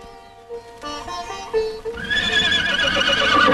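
A horse neighs loudly and close, a rising, quavering whinny that swells and holds over a background of music, with faint hoof sounds mixed in.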